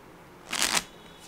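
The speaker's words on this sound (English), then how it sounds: "I'm just going to mix these cards in front of you. So this is the first shuffle." A deck of playing cards is shuffled once in a quick riffle, a brief crisp flutter lasting about a third of a second close to the listener, with no talking.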